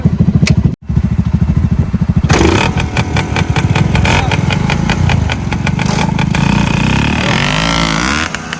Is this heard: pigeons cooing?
no